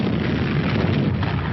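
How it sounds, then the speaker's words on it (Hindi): Explosion during a commando strike by the Indian Air Force Garud unit, a dense, sustained deep rumbling roar that fills the whole short span. "चंद पलों बाद एक धमाका और काम खत्म।"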